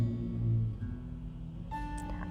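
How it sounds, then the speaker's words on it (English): Steady low road traffic rumble heard from inside a parked vehicle in a parking lot, a continuous dull wash with a faint tonal hum entering near the end and no voices. "I apologize for the road noise."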